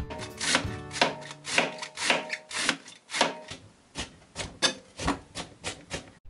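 Cabbage and carrots julienned with a knife on a board, a close run of quick, regular chopping strokes that slow into separate sharp cuts, with no voices.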